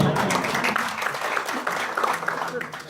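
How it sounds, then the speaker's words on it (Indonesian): A seminar audience on clinical trials gives a short round of applause at the presenter's urging, scattered clapping mixed with voices and room chatter. "Tepuk tangan dong."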